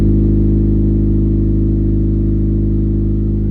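An EK sedan with a new exhaust runs with a steady, deep exhaust drone, loud and close, holding one even low note throughout.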